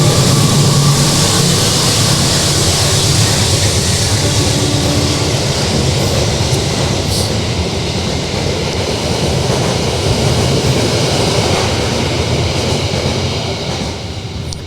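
A train rushes past close by, loud and unbroken, a steady rumbling roar with rattling wheels that fades only slightly toward the end, with no talking over it.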